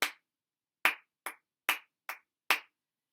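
Six sharp hand claps in an uneven rhythm, isolated and fairly close, with silent gaps between them, the second through sixth coming quicker in a syncopated pattern.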